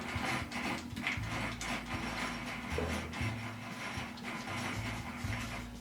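A drill bores into wood, its motor whirring steadily with rhythmic chattering and grinding as the bit cuts, fairly close and alone with no talk.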